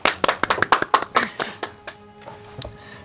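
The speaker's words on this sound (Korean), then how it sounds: "박수 한 장만 해주시죠." A handful of people clap in a studio, about a dozen distinct, close, fairly loud claps over two seconds, then fading into sparse scattered claps and faint room noise.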